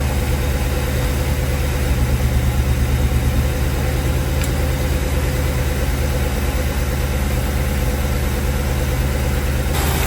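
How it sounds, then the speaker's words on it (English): A Ford Crown Victoria V8 idling with a misfire, dropping between seven and eight cylinders, giving a loud, steady, uneven low rumble with a rhythmic stumble throughout, no voices. "It's going between 7 and 8 cylinders."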